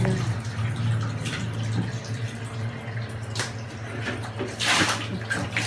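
Water splashes and pours steadily over a young puppy during a bath, a continuous running-water wash with a few louder splashes near the end, while people talk softly in the background.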